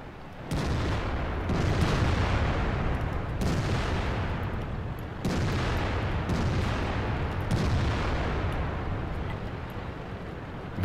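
Tank and artillery fire in the video game World of Tanks, several heavy booming shots spaced a few seconds apart, each followed by a long rumbling decay over a constant engine drone.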